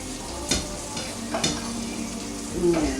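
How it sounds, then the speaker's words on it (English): Three pounds of sausage sizzles steadily in a pan, with a few louder clattering stirs as it cooks for a Christmas quiche, all close up and with no talking. "I'm going to go ahead add my 3 pounds of sausage."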